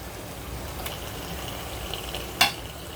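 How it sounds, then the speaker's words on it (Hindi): Chicken fries with masala in a pot, a soft continuous sizzle with one brief louder scrape or stir near the end, quiet and with nobody speaking. "अब इस चिकन को ये मसाले के साथ अच्छे से भुनेंगे।"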